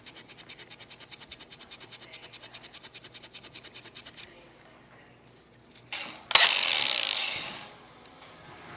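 A wire brush scrubs a truck frame in quick, even back-and-forth strokes, then a louder harsh burst of brushing follows after a short pause.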